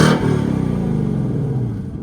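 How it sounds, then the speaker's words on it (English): A stock 2026 Ford Mustang GT V8 revs up loud and close, its deep rumbling exhaust burbling steadily on a fast-idle throttle blip. "sounds pretty dang good for a bone stock Mustang"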